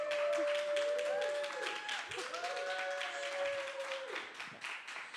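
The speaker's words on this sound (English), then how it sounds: "maybe you can save your clap for later" Audience at a lecture recital claps, a moderate patter of scattered hands under a person's talking voice, fairly quiet and steady throughout.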